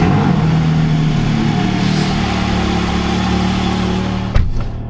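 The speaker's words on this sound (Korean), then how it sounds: "한번 시동 걸어볼게요." A Porsche car engine idling near the microphone with a steady low rumble, closing with a short sharp bump; no one speaks.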